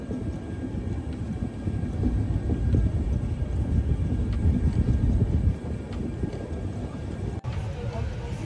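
A long-distance passenger train from Howrah to Jammu Tawi, heard from on board as a dense rumbling roar of wheels and carriage that eases slightly toward the end as it slows, with faint voices underneath.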